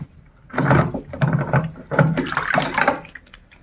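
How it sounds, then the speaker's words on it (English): Residual water gushes and splashes from a washing machine drain hose in uneven bursts, draining out in several surges over a few seconds, close by. "Then the residual water will come out"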